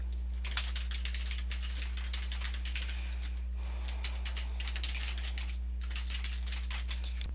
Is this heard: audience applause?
no